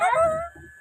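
A dog lets out a single high, drawn-out whimpering whine that slides downward and fades, followed by a brief softer whimper, close and clear.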